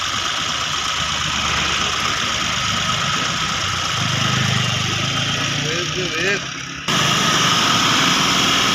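A freshly overhauled Mahindra TUV300 car engine runs loudly and steadily, rising slightly as the accelerator is pressed, with a brief dip before the roar resumes; a voice speaks faintly underneath.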